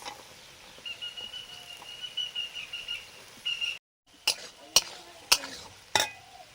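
Beans tossed into a hot frying pan and stirred, with a soft steady sizzle followed by several sharp spatula knocks against the pan.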